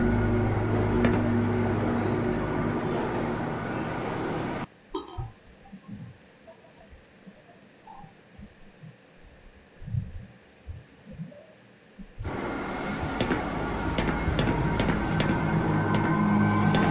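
A train ride in the video game Black Mesa, with a steady loud rumble of the moving car that gives way to a quieter stretch of low clunks and thumps before the loud rolling noise returns.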